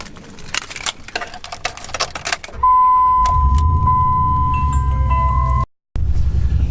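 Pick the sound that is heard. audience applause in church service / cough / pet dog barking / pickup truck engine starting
pickup truck engine starting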